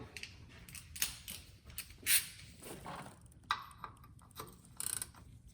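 17 mm socket working a Mercedes-Benz R-Class W251 belt tensioner, quiet close-up metallic clicks, scrapes and ratchety creaks in irregular bursts, with no talking.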